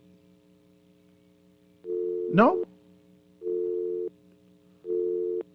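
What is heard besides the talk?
telephone line tone on a radio call-in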